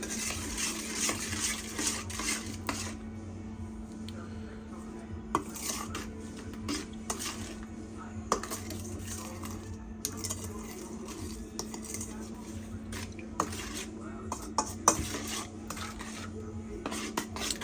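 Sour cherry pie filling with flour is stirred in a bowl with a spoon, giving steady scraping and clinking strokes with sharper knocks against the dish throughout.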